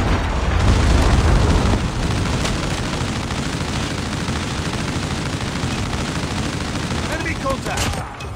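A Predator missile explodes in a Call of Duty match amid loud, continuous battlefield noise, with heavy booming and rattling gunfire strongest at the start before settling into a sustained roar.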